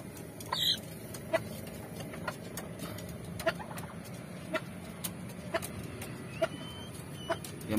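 A green junglefowl in a backyard ornamental-poultry setting at late afternoon gives short, sparse clucks at fairly regular intervals over a steady outdoor background hiss.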